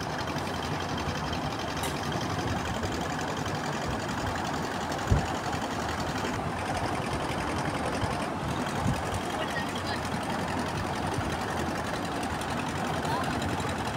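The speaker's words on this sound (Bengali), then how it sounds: "পরে উনি আবার মোটর চালু করে দিল, আমরা ব্যাক করছি ওই পাড়ের দিকে।" A boat's outboard motor runs steadily on a river crossing back toward the far bank, a constant close drone that fills the whole stretch, with a faint thump partway through.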